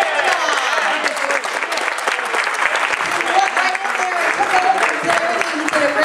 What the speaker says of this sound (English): How about a round of applause for Jack?